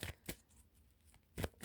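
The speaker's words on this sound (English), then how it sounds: "Shuffling off camera because it's hard to shuffle on." Tarot cards are shuffled close by in a few quick riffling bursts separated by short pauses, with no talk over them.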